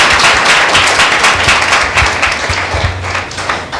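A church congregation at a Tuesday meeting applauds, a dense, loud burst of many hands clapping that fills the whole moment without talk.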